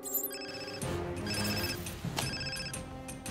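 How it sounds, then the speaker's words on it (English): A keychain gadget plays a fake telephone ring sound effect, a clear electronic bell-like trill in repeated short bursts, loud and alone with no talk over it. "Fake phone ring"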